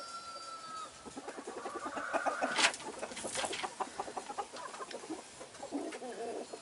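Several chickens cluck and murmur close by in a steady chorus, with a sharper squawk partway through and a faint high whine at the start.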